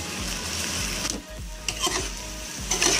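Boiled rice and jaggery being stirred in a hot pan, a continuous sizzle broken by repeated scraping strokes of a spoon against the pan, close and fairly loud, no talking.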